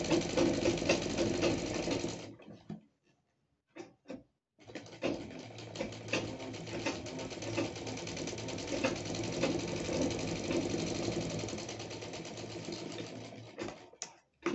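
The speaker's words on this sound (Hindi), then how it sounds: "इस तरह से हम इसे पूरे में स्टिच कर लेंगे" A sewing machine stitches organza for a puff sleeve, running in steady, close rattling bursts broken by two brief pauses, with no talk.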